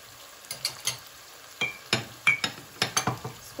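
Chilli chicken with chilli sauce and vinegar is stirred in a hot pan, a sizzle under a series of sharp scraping and clinking strokes from the spatula, close and unaccompanied by talk.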